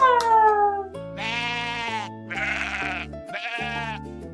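Several sheep bleats, long wavering cries in a row, loud and close, with brief pauses between them.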